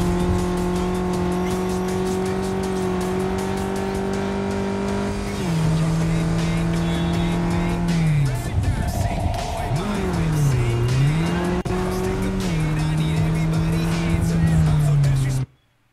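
Race car engines in the Cyberpunk 2077 video game drone loudly and continuously, with pitch shifts as gears change, tire squeal and skidding through bends, then cut off abruptly at the end.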